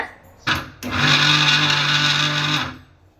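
A mixer grinder whirs briefly while kneading chapati dough in its jar, then runs with a steady loud motor hum for about two seconds before stopping; no talking.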